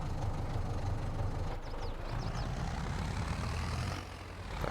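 A tractor pulling a manure spreader in Farming Simulator 22 drones along with a steady, low engine rumble that dips briefly, continuous and fairly near, with no speech.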